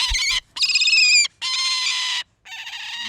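A prairie falcon gives loud, harsh, raspy calls, three long screaming bursts in a row with short pauses between them, close and clear with no other sounds.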